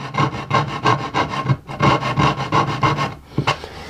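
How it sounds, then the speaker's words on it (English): A rasp or file scraping rhythmically along the edge of a wooden LP Custom guitar body to cut a bevel, close and steady strokes of roughly even pace, with a short pause before a final stroke. "I've cut a bevel all the way around the side of this body."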